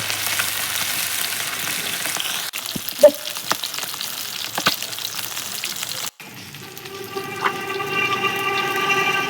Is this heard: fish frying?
yes